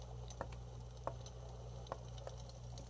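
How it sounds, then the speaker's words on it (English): Portable white noise machine with a star light playing a raindrop setting, a faint soft patter with occasional light drip ticks over a steady low hum. "I guess that's raindrops"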